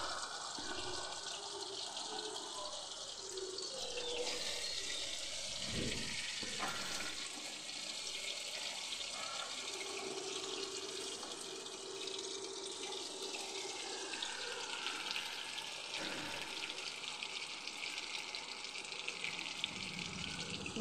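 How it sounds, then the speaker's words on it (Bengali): Pieces of food frying one by one in hot oil on low heat, a soft continuous hiss and gentle bubbling throughout, fairly quiet and steady. "এই তেলের মধ্যে এবার একটা একটা করে সবটা দিয়ে এটাকে ভালোভাবে ভেজে নেব।"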